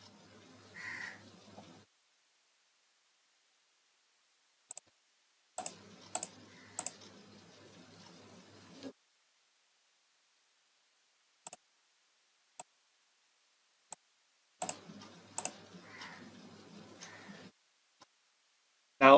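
Single sharp computer mouse clicks come sparsely and close during an online game account sign-up, spaced seconds apart with quiet gaps and faint background hiss between them.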